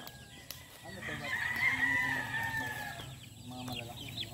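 Chickens and chicks at a gamefowl farm cluck continuously, with a rooster's crow rising in the middle, close by amid a busy farmyard background.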